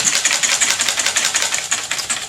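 Heavy cream being whisked in a bowl for a chocolate matzo cake, a steady fast rhythmic whirring from an electric mixer, close and fairly loud, with no talking.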